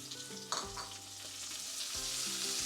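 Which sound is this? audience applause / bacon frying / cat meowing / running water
bacon frying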